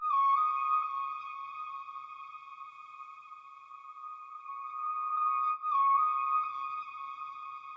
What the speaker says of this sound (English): So after chopping it and letting it reverse into itself, I got this.